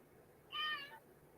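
A single short meow from a cat, faint and somewhat distant against a quiet room hum.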